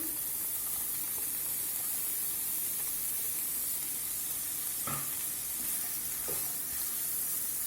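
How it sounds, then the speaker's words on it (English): Onions and capsicum frying in hot oil in a pan, a dense, continuous hiss of sizzling with a couple of faint stirring knocks partway through, no voices. "heat some oil in a pan, add in the onions and the capsicum"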